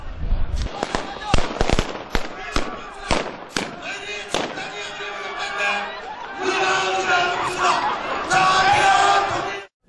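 Actors dressed as Japanese police fire blank rounds at a street reenactment: a rapid run of sharp, loud cracks, then shouting and crowd voices.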